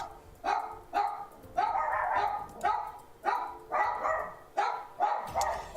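Dogs bark repeatedly in a steady rhythm of sharp, loud woofs, close by, with no talking over them.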